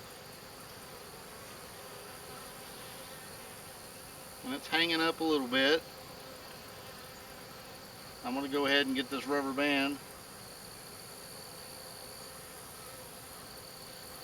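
A low, steady buzz of honey bees hovering around a broken nuc hive frame runs faintly throughout, with someone speaking briefly in two short bursts over the hum.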